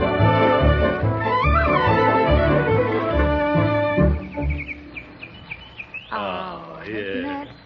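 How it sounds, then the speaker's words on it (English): A canary sings in a radio drama sound effect, quick trills and high warbling phrases that rise over background music and then stand more alone, ending in a bright rapid warble. "it's certainly worth a lot of trouble to get a bird to sing like that"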